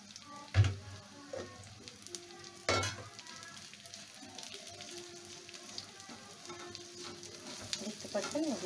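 Ghee, chopped almonds and dal bati ingredients fry together in a pan, a soft steady sizzle with a couple of sharp stirring clatters near the start.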